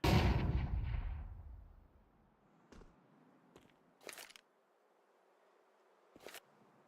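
A grenade goes off in a competitive team shooter match: a loud blast that rolls off over about two seconds, followed by a few sharp, scattered gunshots in the quiet that follows.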